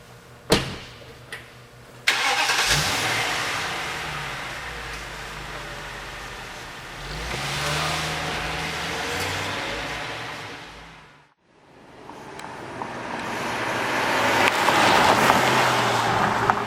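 A BMW 750Li sedan drives on a two-lane road, its engine note rising and falling steadily through a smooth drive with a brief quiet dip midway, no talking.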